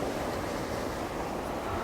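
Sea waves wash against the rocky shore of Uido island in Korea, a steady broadband surf roar mixed with gusty wind buffeting the microphone, with no speech.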